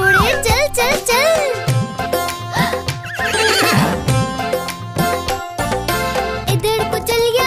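In a Hindi kids' cartoon song, a horse whinnies loudly in repeated bright, wavering calls over bouncy music and rhythmic clip-clopping hooves, with a voice woven through.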